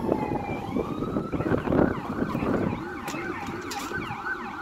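Dogs howl along with a wailing emergency siren, their rising and falling cries layering over the steady siren tone nearby.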